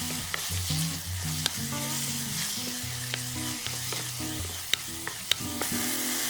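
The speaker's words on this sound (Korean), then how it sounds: "국간장 1스푼, 시원하게 새우젓 반스푼 넣고 다시 달달 볶아준다" Chili oil stir-fried with soy sauce for soup and salted shrimp for a spicy clam soft tofu stew, a steady close sizzle broken by scraping strokes and sharp clinks of a utensil against the pot, with no talking.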